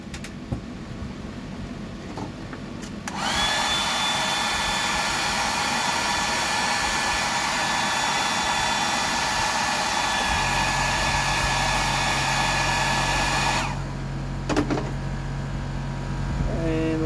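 A hair dryer blows a steady, loud whoosh from about 3 to 14 seconds while it dries paint on a yellow fishing lure, with a low hum continuing underneath; the room is quieter before it starts and after it stops.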